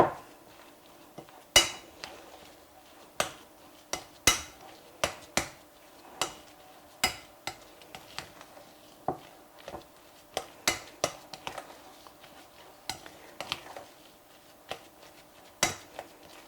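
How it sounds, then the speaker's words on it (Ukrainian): A spoon clinks repeatedly against a bowl while stirring a mashed potato and dill mixture for potato patties, sharp, close taps in an irregular rhythm over quiet background. "Все добре перемішую."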